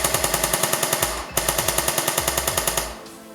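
An S&T M1918 A2 BAR airsoft gun fires two fast, evenly paced full-auto strings, each of roughly a dozen loud, close, mechanical cracks, with a short pause between them and no talking.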